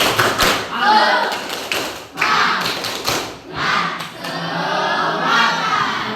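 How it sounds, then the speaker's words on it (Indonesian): A primary-school class at SDN Sukaresmi in Surade, Sukabumi does a rhythmic spirit clap, bursts of sharp claps and thumps in patterned groups, with children's voices chanting and calling out between them, loud and close. "tepuk semangat dulu ya. Tepuk semangat."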